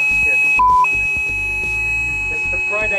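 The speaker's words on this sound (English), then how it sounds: "fire alarm just went off." A Friday-test fire alarm in an office sounds as short electronic beeps over continuous background noise, with someone talking underneath.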